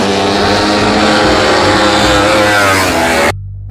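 A toy MotoGP motorcycle emits a loud, buzzy electronic engine roar that drones steadily with little pitch change before stopping abruptly.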